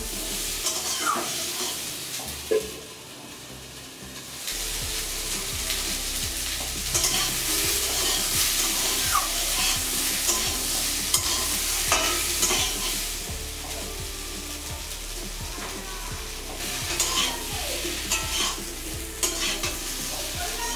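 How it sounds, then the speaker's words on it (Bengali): Vegetable stalks stir-fry in a pan with green chilli paste for a Bengali fish curry, a continuous sizzle broken by repeated spatula scrapes and stirring, close and steady with no speech. "আবার ডাঁটাটা দিয়ে ভেজে নিচ্ছি।"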